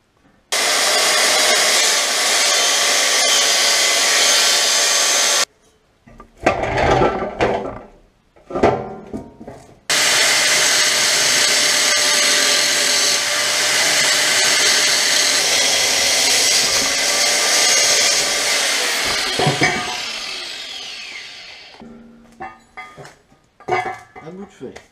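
A power tool cuts into a steel exhaust pipe on a 1969 Charger, a loud continuous grinding roar that stops, gives way to clanking handling noises, then resumes for a long steady cut that fades out.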